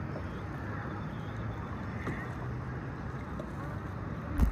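Paddling a small boat on the water at Puerto Vallarta, a steady wash of water and wind noise throughout with soft splashes, ending in a brief louder knock or splash.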